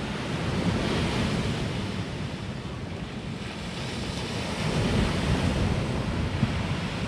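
Ocean waves breaking on a beach on Flores island, a constant loud roar of surf with gentle swells in intensity, mixed with wind buffeting the microphone, no voices.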